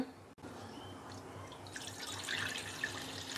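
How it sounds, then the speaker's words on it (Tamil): Soaking water drained from soaked rice into a metal vessel trickles and drips steadily, growing a bit louder and splashier toward the end, close by and fairly quiet. "இந்த தண்ணியை ஒரு சருவத்தில் நம்ம வடிகட்டி எடுத்துடலாம்"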